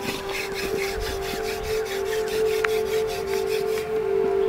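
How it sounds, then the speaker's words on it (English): Hadza people rubbing two wooden sticks together to start a fire: a rhythmic, close, scraping friction sound with regular back-and-forth strokes, steady and fairly loud throughout. "Rubbing two sticks causes the friction that generates the heat, then fire, that they can use to lighten up the smoke."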